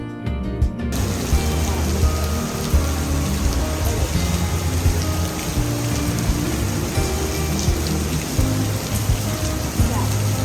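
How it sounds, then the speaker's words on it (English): A torrential downpour hammers down at Hilton Head, a loud, dense and unbroken hiss of heavy rain pouring steadily on surfaces for about ten seconds. "we got stuck by a torrential downpour"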